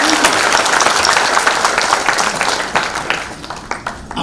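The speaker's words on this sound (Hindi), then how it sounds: "बिल्कुल, एक बार और ताली बजाओ" An audience at a spiritual discourse claps, a dense burst of applause that thins out into scattered individual claps toward the end.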